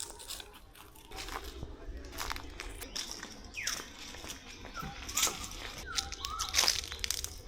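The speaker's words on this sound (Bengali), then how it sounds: "পায়ের নিচে যে গাছের পাতার শব্দ, খসখস, সেই শব্দটাই পাওয়া যায়।" Footsteps crunch and rustle through dry fallen leaves along a quiet forested path in a botanical garden, a steady run of crisp crackles close by, with faint bird calls in the background.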